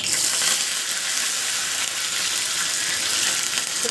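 Curry leaves and dried chillies crackle in hot oil with mustard seeds and cumin for a tempering, making a loud, continuous close-up sizzle throughout.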